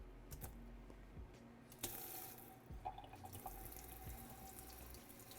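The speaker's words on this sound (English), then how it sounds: "start running some cold water" Cold water runs steadily from a kitchen tap in a continuous hissing stream, with a few light knocks and clinks of kitchen handling over it.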